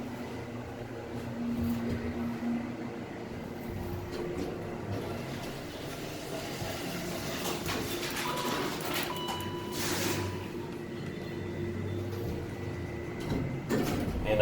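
A ThyssenKrupp hydraulic elevator door slides shut, likely installed around 2001 or 2002 at a Fairfield Inn & Suites. A low hum runs throughout, and a brief mechanical rattle and clunk rise near the middle, with no talking.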